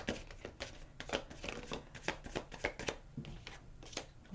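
Continuous close-up tarot card shuffling, a rapid rhythmic series of crisp flicks and riffles with no talking.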